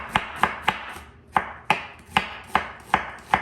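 A knife slices through half an onion on a cutting board in about ten crisp, evenly spaced chops, close and distinct with no talking.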